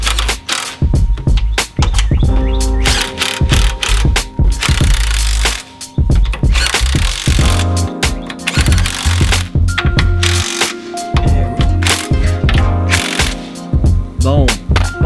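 Metallic ratcheting and clanking while 17mm bolts on a steering brace are turned and snugged by hand with a wrench, loud and close, with tool rattles and clunks in irregular bursts.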